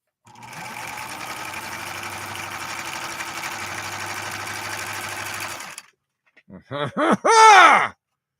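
A 1970s Viking 3600 sewing machine stitches in a steady, close mechanical whir for about five seconds, then stops, and a voice speaks briefly.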